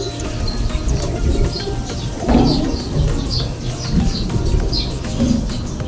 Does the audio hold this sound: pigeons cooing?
yes